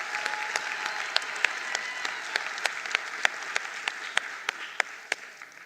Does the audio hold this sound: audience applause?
yes